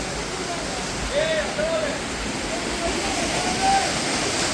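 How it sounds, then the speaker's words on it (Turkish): Steady rushing water from the Kaynarca waterfall and its rocky stream in a forest setting, a constant broadband roar close by, with brief human voices faintly over it. "Evet şelalemiz harika duruyor şu anda"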